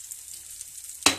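Chopped green chilies, small carrots and beans browning in a pan give a faint, steady sizzle that jumps into a sudden louder hiss near the end, heard close with no talk.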